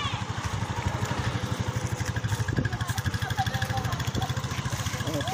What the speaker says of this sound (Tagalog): O, tingnan mo yung mga motor-motor dito.